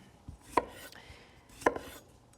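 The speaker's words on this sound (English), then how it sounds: "Just chop them up nice and small." Two crisp knife strokes chop small potatoes on a cutting board in a home kitchen, each cut a sharp isolated thud, close and clear with no talking.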